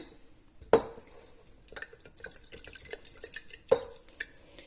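Sourdough starter stirred with water in a jar, two sharp clinks of a utensil against glass among soft wet scraping, close and quiet.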